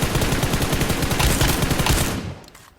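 Rapid automatic gunfire in PUBG Mobile, a dense, loud sustained burst of shots that cuts off near the end and leaves a brief quiet tail.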